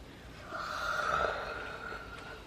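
A drawn-out yawn with a breathy, rising-then-falling tone, lasting about two seconds at close range.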